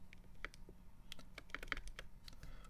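Key presses on a modded Keychron Q1 mechanical keyboard, a steady run of sharp clicky-thocky strokes at a moderate typing pace, fairly quiet and close with no voices.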